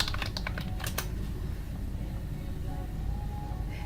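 Keys clatter on a computer keyboard in a quick run of typing strokes near the start, then the clicks thin out beneath a steady low room hum.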